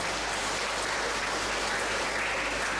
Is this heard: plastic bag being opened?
no